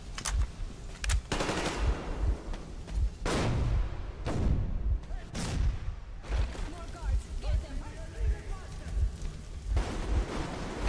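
Rapid bursts of gunfire in Metro Exodus on PlayStation 5, with heavy booming shots and explosions, dense and continuous, a voice talking now and then underneath.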